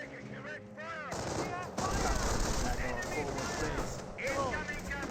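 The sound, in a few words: gunfire in Company of Heroes video game battle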